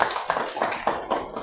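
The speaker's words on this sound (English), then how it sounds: "another round of applause for them" Audience applause at a business forum, a short burst of clapping from a crowd with uneven rhythmic hand claps at moderate volume.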